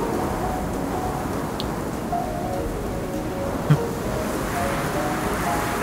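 Wind in the survival game Sons of the Forest blows as a steady loud rushing noise, with a few faint clicks and a brief thud partway through and no talking.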